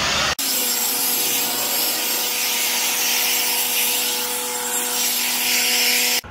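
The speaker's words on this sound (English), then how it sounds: "we're just gonna use the leaf blower, clean up the area" A leaf blower roars steadily at close range in a garage workspace, a loud continuous engine whine with a rushing-air hiss that never lets up.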